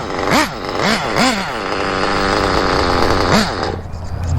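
Losi Eight RTR nitro RC buggy engine running: a buzzing, high-revving little motor rises and falls in several quick bursts, then holds a steady rasping whine, close and loud.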